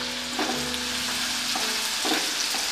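Onion frying with cumin, cinnamon stick, bay leaf and a pinch of salt, a loud continuous sizzle close by, broken by a few stirring scrapes.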